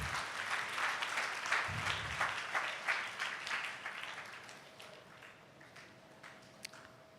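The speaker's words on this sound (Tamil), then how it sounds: "ஒரு கைதட்டு கொடுக்கலாம்ல கர்த்தருக்கு" A church congregation claps together in a sustained burst of applause that gradually fades, with a few scattered claps and a faint steady tone near the end.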